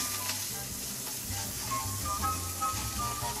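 Pigeon legs browning in a pan, a steady close sizzle of frying with faint stirring, continuous and moderately loud with no one speaking.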